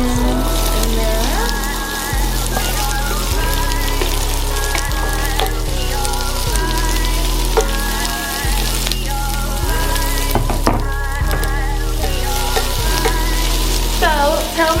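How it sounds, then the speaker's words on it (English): Onions frying in hot, shimmering oil sizzle steadily at close range for the whole stretch, with a low musical hum running underneath and occasional stirring clatter. "I see my oil shimmering a little bit, so I'm going to go ahead on and put my onions in there"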